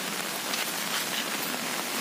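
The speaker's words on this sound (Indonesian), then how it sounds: "tenda rapi dipasang dan hujan pun turun dengan tepat waktu" Rain falls steadily on a tent on Gunung Gede, reached via the Cibodas route, making a dense, even patter that holds at a constant level with no voices.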